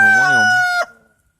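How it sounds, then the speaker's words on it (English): A game rooster crows once, loud and close, its call holding steady before breaking off sharply and trailing away. "my game rooster Fred there, he's getting bigger."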